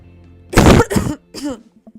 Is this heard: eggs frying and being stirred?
no